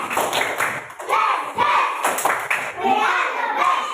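Schoolchildren in a classroom chant and clap a quick rhythmic cheer, their voices loud and close with sharp hand claps punctuating the chant.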